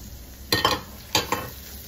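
Sliced baby bella mushrooms hit a pan of softened, browned onions with a soft, continuous sizzle, and two short bursts of stirring scrape against the pan.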